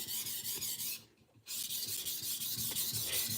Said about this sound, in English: today I'm going to be sharpening this custom knife